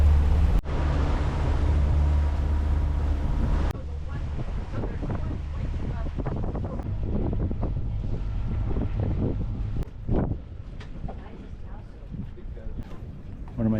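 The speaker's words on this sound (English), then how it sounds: "put the sail away and we're motoring over to Norman Island" Steady low engine drone of a sailboat motoring at about 2200 RPM near Norman Island, mixed with wind buffeting the microphone and water noise, with a person talking over it.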